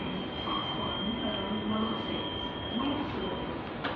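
A Southeastern train pulls into London Bridge station with a steady rumble and a faint sustained whine, plus occasional soft wheel squeals, heard continuously at moderate distance.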